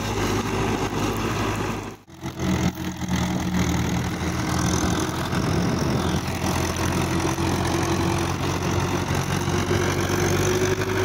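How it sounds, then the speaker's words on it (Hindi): A 1997 Mahindra 475 DI tractor engine idling, a steady chugging diesel rumble heard close up and continuous, with a brief dip in level early on. "ये हमारे घर का ही ट्रैक्टर है, महिंद्रा 475 DI 1997 मॉडल"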